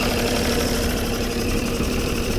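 A Suzuki DT55 outboard motor idles steadily and loudly close by, with a constant low rumble and slight knocking vibration, no voices.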